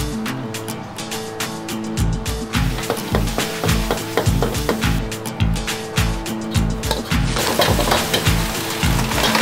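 Beef tendon being stir-fried in a wok in a restaurant kitchen serving Jiangxi food, a loud busy sizzle with rhythmic clanging and scraping strokes of the utensil against the wok, close and continuous.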